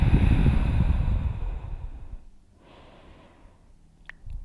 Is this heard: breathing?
yes